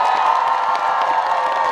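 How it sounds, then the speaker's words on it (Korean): A crowd at an outdoor cultural festival concert in Daegu applauds and cheers loudly, a continuous roar of clapping and shouts with no break. "박서진 잘왔다 생각하시면 박수 한 번만 주세요."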